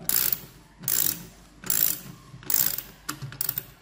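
Ratchet turning a Gator Grip universal socket, four evenly spaced bursts of rapid clicking pawl sounds followed by a few shorter quick clicks, close and clear with no talk.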